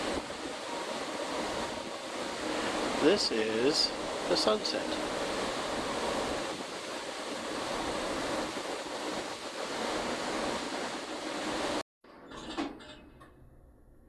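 Steady ocean wind and the rush of waves at sea from a cruise ship deck fill the scene, with brief speech partway through and a cut to quieter ambience near the end.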